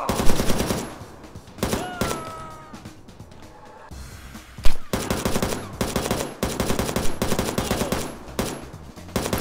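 Enemy gunfire in the shooter XIII Remake, loud rapid bursts of automatic fire that crackle and stutter in repeated volleys, with a few sharp single shots mixed in.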